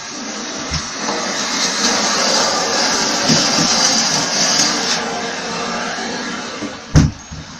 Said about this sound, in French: Désolée pour le bruit, c'est mon petit frère qui a décidé de venir passer l'aspirateur dans ma chambre.